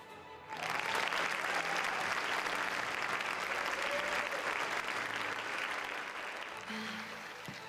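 An audience gives sustained, full applause for elementary teachers of the year at a school district ceremony. The clapping starts abruptly and stays loud and dense throughout, with no speech over it.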